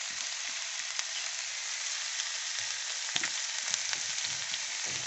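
Ginger paste fries in hot oil for a Bengali fish curry with a dense, even hiss, small pops and utensil taps scattered through it, with no talking.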